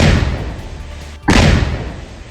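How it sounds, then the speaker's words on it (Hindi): An explosion demolishes the family house of a militant in Tral, Kashmir: one sudden heavy blast breaks through a low background rumble, followed by a rolling, fading roar. "आदिल के घर जैसा धमाका हुआ"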